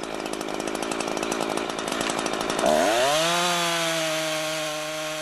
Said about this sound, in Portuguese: Acelera a máquina e começa a serrar.